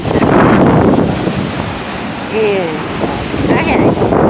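Strong wind buffets the microphone on a chilly day at Flagler Beach, Florida, over a constant roar of surf, loud and close, with a brief faint voice-like tone partway through.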